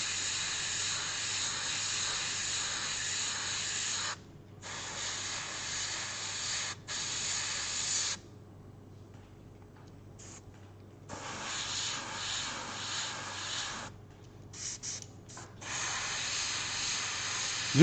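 Airbrush spraying paint onto a miniature's skin, a steady close airy hiss that runs in long bursts with short pauses between passes.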